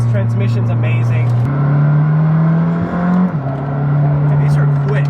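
A McLaren 620R engine pulls hard under acceleration, its rising note dropping at two clean upshifts. The engine is loud and close, with voices talking over it.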